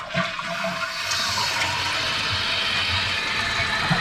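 A household toilet, just repaired after a running-fill fault, flushes loudly nearby with a steady rushing gush of water draining and refilling the bowl, heard alone without talk.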